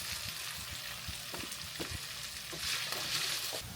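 Chorizo and starchy potatoes sizzling in a pan, a steady close fry with repeated scraping and clacking as they are stirred and moved around.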